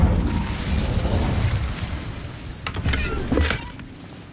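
An Incendio fire spell is cast in a Hogwarts video game: a low, roaring whoosh of flame swells at close range, then a couple of sharp crackling bursts flare near the end before it fades.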